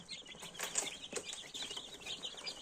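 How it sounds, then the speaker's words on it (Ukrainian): Many small incubator-hatched chicks of three breeds peep in high, rapid chirps, overlapping and continuous, close by and moderately soft. "курчата трьох порід"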